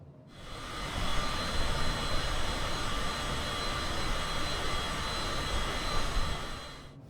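Steady, loud jet engine roar of a Cessna Citation CJ4 descending on a 3-degree glide slope in Microsoft Flight Simulator, a continuous broadband drone with faint whine, rising in at the start and fading at the end, no talking.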